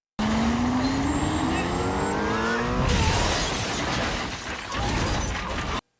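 Cars racing in a street chase in the film 2 Fast 2 Furious: loud revving engines with rising pitch, then a crash-like burst and continuing roaring, skidding vehicle noise.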